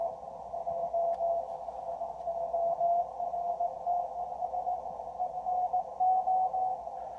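A steady, faint received Morse code CW tone on a radio pulses in rapid keyed bursts over a soft background hiss, the pitch shifted about 70 hertz by the receiver's pitch setting.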